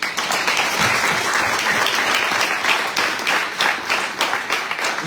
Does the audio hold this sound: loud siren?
no